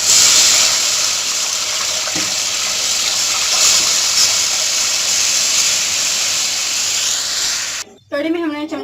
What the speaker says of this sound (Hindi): कड़ी को बॉयल आना शुरू हो गए हैं